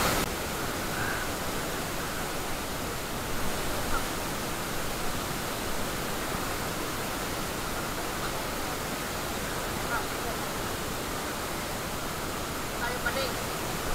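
Strong current of the Tinipak River rushing steadily, a broad unbroken roar of flowing water close by, filling the whole stretch at an even level.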